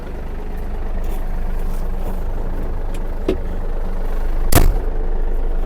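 A Yanmar RS-300 mini tractor engine runs steadily with its mower blades engaged, a loud, close, even drone with a few brief sharp clicks and one louder knock near the end.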